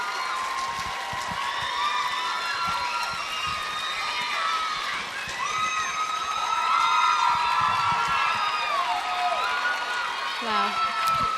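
A beauty pageant audience cheers and claps on and off while shrill whoops and excited screams rise above the crowd noise throughout.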